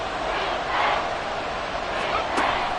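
A football stadium crowd roars in a dense, continuous wall of noise that swells twice, loud and steady, with a commentator's voice mixed into it.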